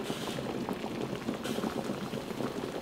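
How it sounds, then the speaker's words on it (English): A pot of salted water rolls at a steady boil with Kipfler potatoes in their skins, a dense continuous bubbling and popping heard close up without talk. "We boil them with their skins on, and that way the potato doesn't go brown."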